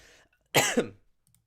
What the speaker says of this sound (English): Little cough break as well.